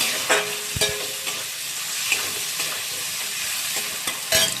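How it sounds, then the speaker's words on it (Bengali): Salted shrimp sizzle in hot oil with a steady close crackle, broken by several sharp clanks and scrapes as the pan is stirred, with no voices. "তেলের মধ্যে চিংড়ি মাছটা দিয়ে দিলাম আর চিংড়ি মাছটাও নুন মাখিয়ে রেখে দিয়েছিলাম"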